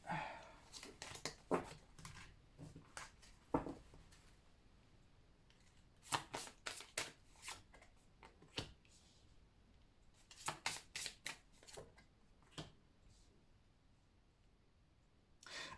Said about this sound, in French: Alors attendez, je ramasse les cartes.